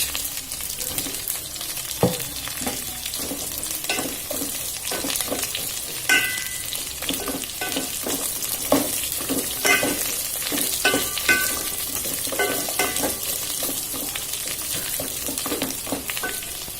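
Onions and chili fry in a pan for a vegetable biryani, a constant close sizzle broken by repeated clinks and scrapes of stirring, with no one speaking.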